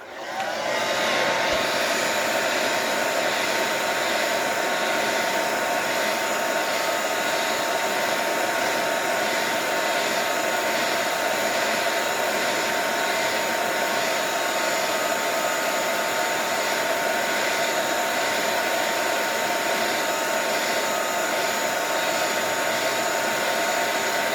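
A hair dryer blows steadily and loudly for the whole stretch, drying acrylic paint on an art journal page, an even whooshing motor hum with no talking.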